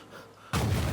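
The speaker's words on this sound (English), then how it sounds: "there it caused a small explosion" Small explosion on a road in the city-building game HighRise City, a sudden loud burst halfway through that holds as a rumbling blast.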